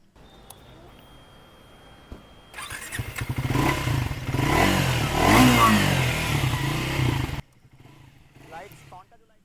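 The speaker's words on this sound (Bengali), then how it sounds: "চলুন এক্সস্টের সাউন্ডটা একবার দেখিয়ে দিচ্ছি।" A 2026 Triumph Tracker 400 motorcycle with a 350cc engine starts and idles, then revs several times with a loud, close exhaust note before cutting off. A voice talks faintly near the start and end.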